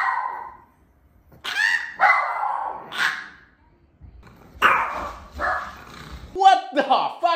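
Dog barking in a home clip, a few short odd-sounding yips and barks in bursts, loud and close, with a person speaking over and between them.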